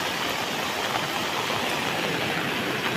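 Floodwater rushing fast across a road during heavy monsoon rain in Konkan, a steady, dense broadband roar of running water and rain, loud and unbroken throughout with no voices.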